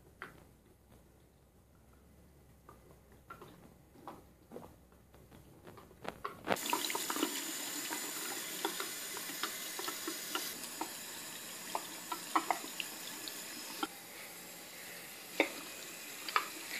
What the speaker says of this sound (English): first I'm going to take a shower